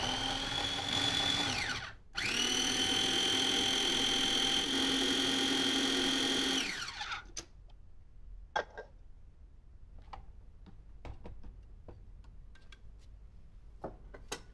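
A blender purees bananas until smooth, running loud and steady for about seven seconds with a brief dip near the start, then cutting off and leaving faint clicks and handling sounds.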